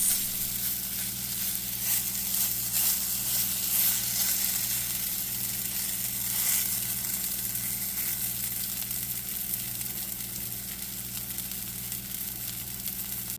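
Boxty, an Irish potato pancake batter, frying in a pan, giving a constant close crackling sizzle with a faint hiss and no voices, steady throughout.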